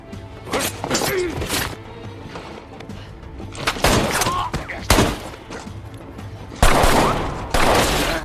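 Intense gunfight from the action film Extraction, with sharp bursts of automatic gunfire, heavy impacts and shattering crashes coming in irregular volleys over a tense soundtrack, loud and close.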